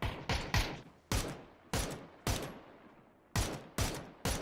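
Rapid gunfire in an esports video game match, about ten sharp, loud shots in irregular pairs and singles, each ringing out with a short decaying tail over quiet gaps.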